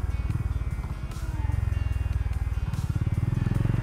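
A Honda H'Ness CB350 retro-classic motorcycle engine thumps with a steady, loud, rhythmic low beat, close by and running continuously.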